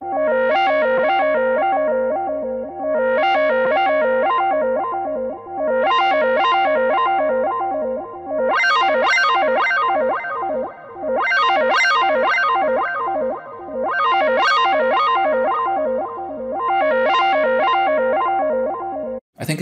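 Digital oscillator module tones from a Klavis Twin Waves MkII synthesizer pulse in repeating arpeggiated phrases, bright and buzzy with sweeping harmonics, cycling in steady waves with no voices.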